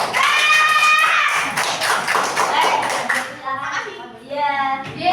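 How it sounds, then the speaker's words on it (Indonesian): Classroom applause in a guidance lesson on managing emotions, a scattered burst of hand claps from students mixed with lively young voices and chatter throughout. "Jadi tepuk tangan dulu."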